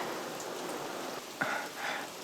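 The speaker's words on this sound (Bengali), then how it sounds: "বাইরে বৃষ্টি হচ্ছে," Steady rain falls outside as an even, hissing wash that fills the background, moderately close, with a couple of faint bumps and tones over it and no voices.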